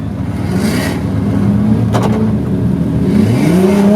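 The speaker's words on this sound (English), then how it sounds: "There we are looking at Simon Olsen and his 2JZ powered Toyota Supra" A 2JZ-powered Toyota Supra drift car at a Formula Drift event revs its engine, heard from a distance as rising and falling pitch sweeps that climb again near the end, over crowd-like background noise.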